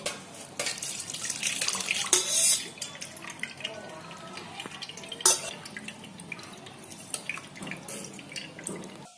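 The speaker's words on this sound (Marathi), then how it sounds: "आता हे आहे ना मी चालणीने चालून घेते" Mango water pours and drips steadily through a sieve, with small splashes and clinks from utensils.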